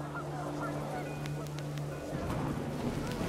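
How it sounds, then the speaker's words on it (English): Panicked geese honk in the game What Remains of Edith Finch, a few sharp calls over a steady windy roar and a low droning tone, with a voice talking over them. "Wind picked up, and panicked geese appeared and quickly went."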